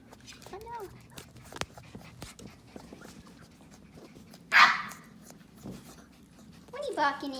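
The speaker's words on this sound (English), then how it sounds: "What are you barking at?" Tiny puppies bark in a couple of short, sharp bursts near the middle and end, with faint whimpers earlier, over a quiet indoor background with a person talking softly.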